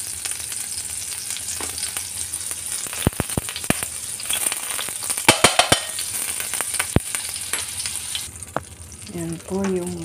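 Butter sizzles steadily in a frying pan for garlic shrimp, a close continuous hiss punctuated by sharp utensil taps and clinks against the pan, with a brief voice near the end.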